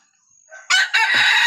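A young rooster crows once, loud and close, after a brief thin lead-in note, with no other sounds around it.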